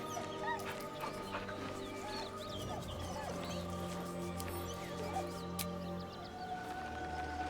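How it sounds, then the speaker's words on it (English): A dog whining beside a corpse in Baldur's Gate 3, soft whimpers and yips over a low droning game ambience, faint and close. "He whines, but remains rooted by the corpse's side."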